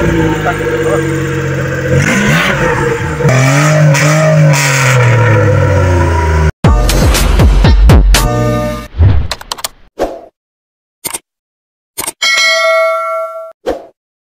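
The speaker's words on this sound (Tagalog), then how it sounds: "napakaingay po yung tunog niya dahil naputol po itong exhaust pipe" A minivan engine with a broken exhaust pipe revs loudly in rough bursts that cut off abruptly, followed by short metallic clanks and pauses, with people talking over the early part.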